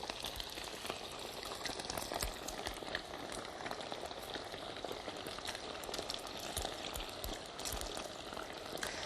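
Bite-sized chicken pieces deep-frying in hot oil for ginseng chicken gangjeong, a dense continuous sizzle and crackle with bubbling pops, close and steady throughout.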